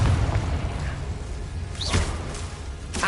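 A Confringo explosive spell cast in Hogwarts Legacy gives a swooshing whoosh, then a dull booming burst, with a second sharp hit right at the end, all against steady game background noise.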